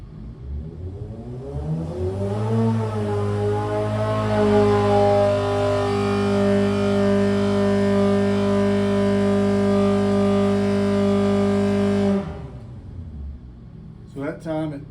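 A Formula Atlantic race car engine on a dyno revs up from idle to a steady high-rpm hold near its 8,200 rpm limit, a loud sustained drone for about ten seconds before cutting off abruptly.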